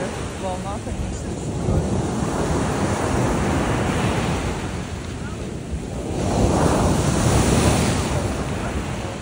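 Rough sea waves surging and breaking near a boat out on open water, loud and continuous with strong wind buffeting the microphone; a swell builds to a louder crash near the end, and a voice is briefly heard.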